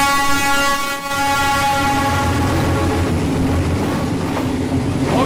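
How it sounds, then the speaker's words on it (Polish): A train passes very close on a track running through a spot where people step aside and sit at a small eatery, with loud, sustained horn blasts and steady rumbling wheel and car noise throughout, no voices. "w momencie kiedy będzie jeździł pociąg, to wszyscy tutaj przechodzą na bok"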